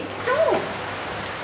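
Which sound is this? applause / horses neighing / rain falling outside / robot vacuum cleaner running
rain falling outside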